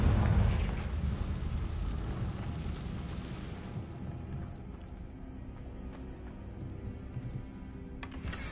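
Confringo fire spell blast in Hogwarts Legacy: a loud, rumbling explosion bursts at the start and decays into a long, low roar with scattered crackles, no voices.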